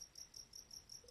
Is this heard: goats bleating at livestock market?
no